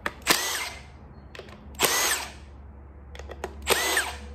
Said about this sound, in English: So I just unbolted this flange right here.